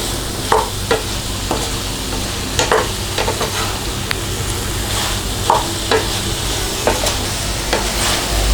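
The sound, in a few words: fried chicken pieces being stirred in sizzling pan for chilli chicken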